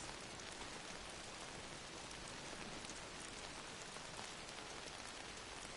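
Rain falling in the video game Days Gone, a steady dense hiss of drops on surfaces, even and continuous, faint and uninterrupted.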